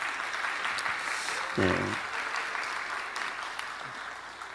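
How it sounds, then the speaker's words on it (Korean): A church congregation applauds in thanks during a Sunday sermon, with steady clapping throughout and a short spoken response partway through. "우리 감사의 박수 한번 보낼까요?"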